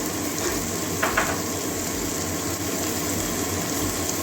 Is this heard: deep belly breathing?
no